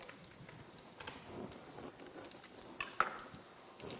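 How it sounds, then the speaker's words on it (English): Faint, steady crackling sizzle of meat frying in a pan, with a few soft clicks and pops, quiet and close. "hearing the sizzling"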